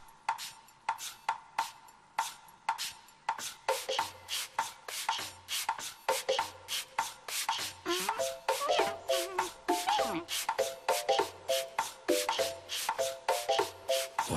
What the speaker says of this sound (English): But I need to finish sanding first.